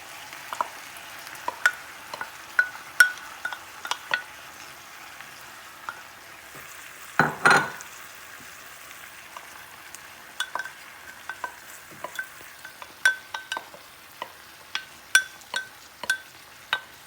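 Tomato and onion frying in a pan alongside green beans, a soft steady sizzle broken by scattered spoon-and-pan clinks and one louder scrape as the mixture is stirred.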